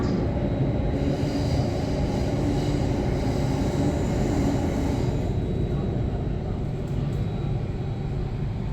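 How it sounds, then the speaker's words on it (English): Steady loud rumble and rolling roar inside a Singapore metro train running between stations, a continuous drone with no break across the whole stretch. "Do not lean against the train doors."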